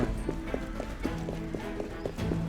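Horse-drawn coach in Assassin's Creed Unity, hooves clip-clopping in a quick steady rhythm over rolling wheel and street noise, fairly close and continuous.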